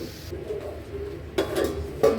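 A lid goes onto a pot of simmering spiced flat bean seed and dried fish curry, with a low background sizzle broken by two quick metallic clanks of lid meeting pot close by.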